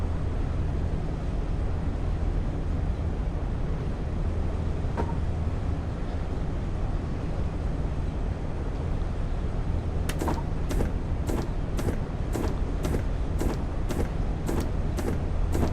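A London Underground train pulls away from platform 9 at Victoria in Train Simulator Classic, a steady low motor rumble throughout, with a rapid series of sharp clicks or clacks near the end as it gathers pace.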